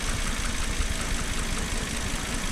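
An old Volvo car engine idles steadily after passing its MOT, a close, even, continuous rumble with a light ticking texture and no talk over it.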